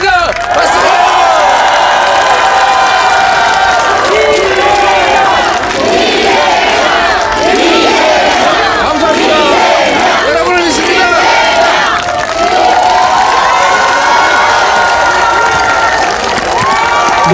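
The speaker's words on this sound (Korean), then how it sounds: "우리 이재명 대표 환호하면서 보내드리겠습니다" A large outdoor crowd at a Paju political rally near Geumneung Station cheers and shouts for Democratic Party leader Lee Jae-myung, loud and continuous, with whoops and chanting voices blending together throughout.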